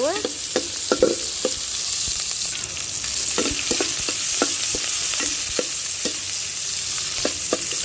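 Spices crackle and sizzle steadily in hot oil over a wood-fired stove, with scattered sharp pops and spoon scrapes throughout.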